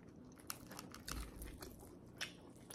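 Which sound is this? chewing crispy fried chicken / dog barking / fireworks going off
chewing crispy fried chicken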